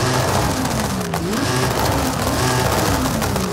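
Forza Horizon 5 race car engine with anti-lag and about 1300 horsepower, revving loudly and continuously with rising and falling pitch sweeps, close and steady, with no talking over it.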